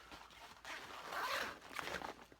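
A zipper is drawn along the compartment of a penny board bag, a single rasping pull that swells and fades over a couple of seconds, close and fairly quiet with no talking.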